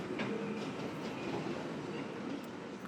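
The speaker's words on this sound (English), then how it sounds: "There's a train coming." A train rumbles past with steady clattering wheel noise, a broad continuous roar heard from nearby outdoors.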